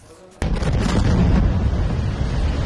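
An Israeli air strike on Beirut erupts in a sudden loud blast after a quiet lead-in, followed by a sustained heavy rumbling roar that lingers to the end.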